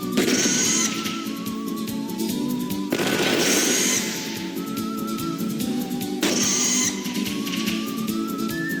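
Gunfire in a battle against enemies in the role-playing game Wild Arms 3, three loud blasts with crackling tails spaced a few seconds apart, layered over game music.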